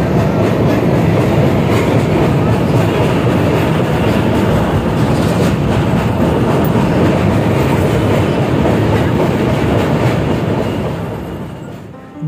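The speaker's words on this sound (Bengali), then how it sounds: "ট্রেন তখন প্রয়াগরাজ জংশন স্টেশন ঢুকছে" A train pulls into Prayagraj Junction station with a loud, continuous rumble of wheels and carriages and a steady clickety-clack that fades slightly near the end.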